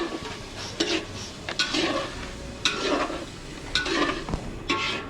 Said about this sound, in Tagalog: mix mo yung giniling baka masunog